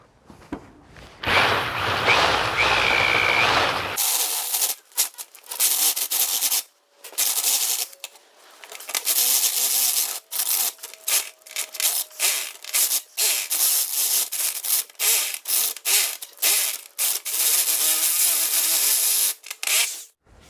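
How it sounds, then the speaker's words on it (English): A step bit drills a drain hole in oiled steel for a target stand: a brief loud drill burst, then a long run of choppy, grinding cutting bursts with short pauses, close and harsh throughout. "Okay guys, I'm gonna switch over to Unibit."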